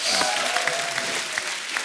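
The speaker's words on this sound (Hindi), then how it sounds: "जोरदार ताली हो जाए" Studio audience applause on a comedy talk show, dense steady clapping from many hands at close range, holding at an even level without talk.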